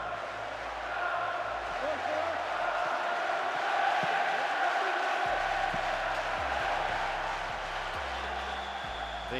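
Stadium crowd noise from the football game PES 2009, a broad steady roar of cheering spectators held at an even level throughout.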